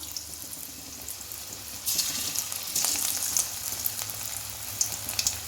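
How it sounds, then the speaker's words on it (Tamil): Cauliflower 65 pieces are dropped into hot oil on a medium flame to deep fry. It starts as a quiet background, then a loud bubbling sizzle bursts in and keeps crackling steadily, with a few louder pops. "இப்போ ஃப்ரை பண்ணலாம்."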